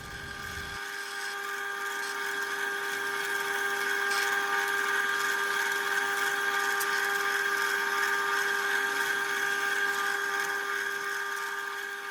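An electric drill with a 3.5mm bit bores through a wooden guitar neck, made of mahogany and maple, with a steady high-pitched whine that ramps up and holds for the whole stretch, loud and close.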